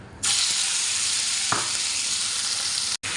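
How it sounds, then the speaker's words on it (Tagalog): Chicken breast hits hot cooking oil and a sudden, loud sizzle starts at once, holding steady and close for a few seconds before a brief cut near the end. "ipiprito ko lang po saglit yung ating chicken breast"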